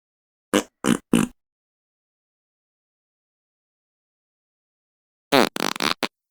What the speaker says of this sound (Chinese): 假设我想为狗狗加入放屁的声音，输入 fart。